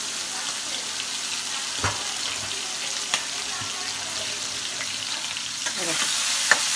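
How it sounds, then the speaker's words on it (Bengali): Prawns fry lightly in a pan, giving a steady moderate sizzle with a few sharp clicks and spatters. "সেই জন্য মাছগুলো খুব হালকা করে ভাজবো"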